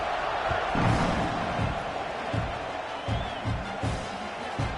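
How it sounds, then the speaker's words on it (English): Stadium crowd at a Tennessee versus Oklahoma college football game, a steady broad roar of many voices with low thumps and swells, a dense, distant-sounding wash holding throughout. "this crowd is buzzing after that last score"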